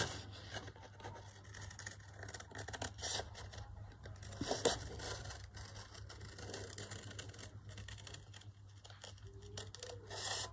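Paper being cut for a handmade card, with soft continuous snipping and rubbing close by over a low steady hum, and no talking.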